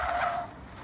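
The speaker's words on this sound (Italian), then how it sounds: "a far fischiare le gomme della macchina" Car tyres squeal in a short, high-pitched screech that fades out within about half a second, heard alone and fairly close.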